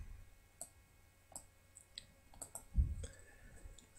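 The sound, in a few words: computer mouse left click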